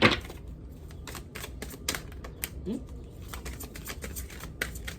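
Tarot cards being shuffled by hand, a series of quick crisp riffling and tapping bursts, close and fairly loud, repeating irregularly throughout.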